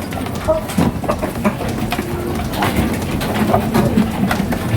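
Two curly-feathered pigeons coo close by in a backyard poultry setting, soft repeated calls rising over a steady background murmur, with a person talking intermittently.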